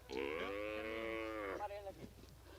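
A cow on a ranch in cowboy country gives one long, loud, close moo, tapering off at the end with no talk over it.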